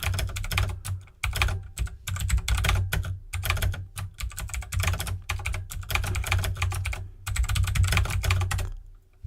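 Rapid, close clatter of keys on a computer keyboard while code is typed, bursts of keystrokes separated by short pauses, no talking.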